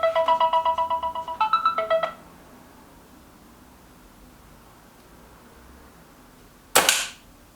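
A Kral NP 03 air rifle fires one sharp, loud shot near the end, after an electronic beeping melody and several seconds of near silence.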